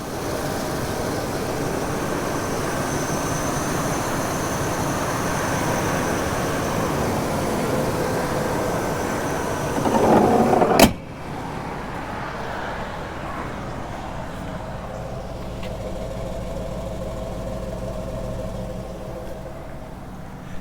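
A 2001 Chevrolet Suburban 2500 with an 8.1L V8 idling quietly, a steady low hum running throughout, interrupted near the middle by a brief sharp knock before the idle continues more softly.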